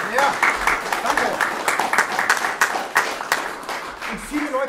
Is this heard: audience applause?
yes